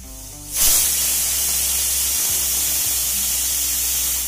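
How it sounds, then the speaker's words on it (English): Pressure cooker on high heat cooking chickpeas with bay leaf and cinnamon, letting off a loud, steady whistling hiss of steam that bursts in abruptly and keeps blowing without a break. "cook it on high heat till you get 4 to 5 whistles"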